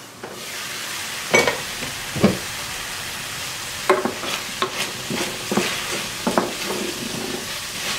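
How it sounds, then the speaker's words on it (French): Homemade vegan fries frying in a home deep fryer, a steady hiss of bubbling oil with a few louder clinks and scrapes of a utensil stirring, close by and without speech. "Il n'y a plus qu'à les faire frire à la friteuse cette fois-ci."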